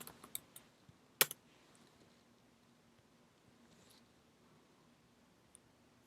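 Computer keyboard keys clatter in a short burst of quick taps near the start, including one sharp louder click, then fall mostly quiet with a faint tap later on.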